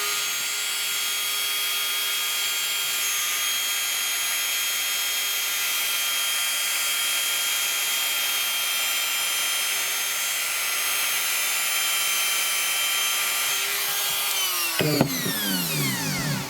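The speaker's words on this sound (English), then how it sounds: "What I'm going to do is just quickly run the Dremel over it" A Dremel fitted with a small diamond disc grinds against the commutator of an AC brush motor, a continuous high-pitched whine and rasp held steadily up close, then spinning down sharply near the end.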